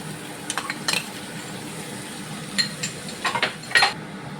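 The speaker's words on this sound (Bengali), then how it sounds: "টমেটো পেস্টটা 1 মিনিটের মতন একটু নেড়ে চেড়ে নিয়েছি।" A spoon scraping and clinking in a pan as tomato paste is stirred into a spice masala for a Bengali dish, with a soft, steady sizzle underneath and intermittent metallic taps.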